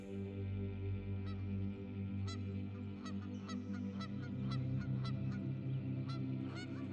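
Wild geese honk in a harsh, excited chorus, repeated calls sounding over and over near and loud across the whole stretch.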